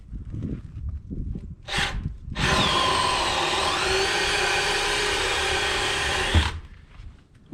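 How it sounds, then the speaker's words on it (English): A power drill bores straight through the wooden back of an electrical box during construction rough-in, running loud and steady for about four seconds after a short burst, then stopping. "this sucker drills fast now"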